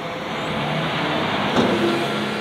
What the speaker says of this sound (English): That's a pretty big dump truck, isn't it?